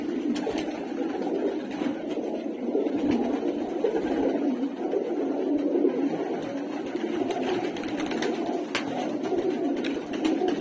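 Pigeons at a pigeon shop coo in a soft, continuous murmur of overlapping low calls, a dense flock sound with faint fluttering and clicks, steady throughout.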